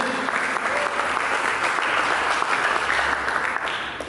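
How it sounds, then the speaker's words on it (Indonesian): Sustained applause from a church congregation, steady and dense clapping that fills the whole stretch, slightly fading near the end. "Berikan tepuk tangan begitu."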